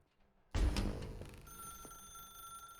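Telephone ringing in The Stanley Parable video game, a sudden loud bell-like ring that starts after a quiet moment and decays into a sustained metallic ringing tone, alone without talk.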